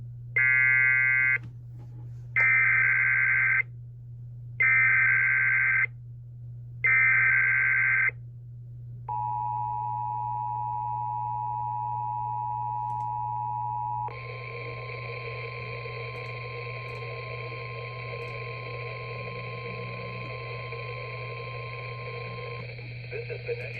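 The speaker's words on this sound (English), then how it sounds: "The tones you just heard were a test of the specific area message encoding and tone alert systems." National Weather Service weekly test alert tones from State College, Pennsylvania: four short bursts of buzzy data-burst encoding, then a steady two-tone attention signal, followed by a long single-pitch alert tone, all over a low background hum.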